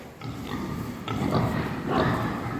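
Pigs on a farm grunt and oink in a steady, dense chorus of low snorts, close and fairly loud, with no clear talking.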